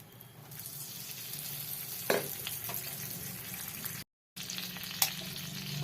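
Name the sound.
gram flour added to melted ghee in a pan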